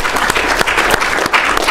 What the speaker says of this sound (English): If everyone can give him an applause.